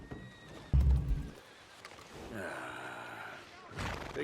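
Horse neighing in the video game Red Dead Redemption II: a loud, sharp whinny near the start, followed by softer snorting and breathy horse sounds, with game ambience and hoof-like shuffling underneath.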